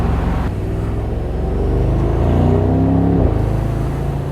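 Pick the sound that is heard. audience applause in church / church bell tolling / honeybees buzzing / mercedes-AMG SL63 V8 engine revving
mercedes-AMG SL63 V8 engine revving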